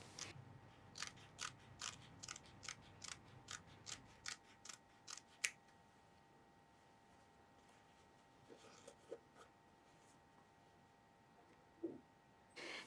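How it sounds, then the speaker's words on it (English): Scissors snip through fabric welt pieces in a quick regular run of about a dozen crisp cuts, then fall quiet with a few scattered faint snips afterward. "cut the welt pieces in half between the stitching"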